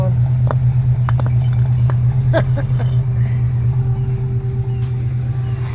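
A 1966 Chevy C10 pickup truck's engine idling in neutral, a loud steady low hum close by with a few light clicks and clatters over it and no one speaking.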